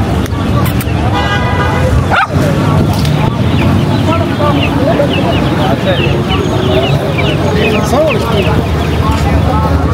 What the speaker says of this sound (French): Là en bas encore t'as des chiens.